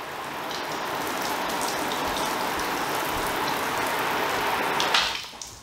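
Steady hiss of water spraying onto a car panel, like heavy rain drumming on metal, continuous and close, cutting off near the end.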